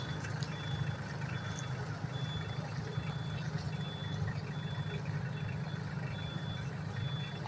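A Solis 26 mini tractor rolls backward with its reversing alarm, a thin high beep repeating evenly about twice a second over the low, steady drone of the small engine.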